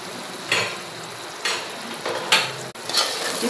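Chicken curry seasoned with chili powder and turmeric is stirred in a pan, producing a few separate scraping strokes over a low, faint sizzle, close by and fairly quiet.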